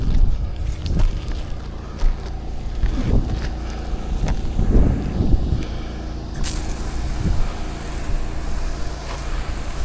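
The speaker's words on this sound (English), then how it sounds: "A little breezy today." Gusty wind buffets the microphone outdoors during soft washing of a shingle roof in Valrico, Florida, a loud rumbling roar that swells and eases, with light knocks and a brighter hiss joining near the end.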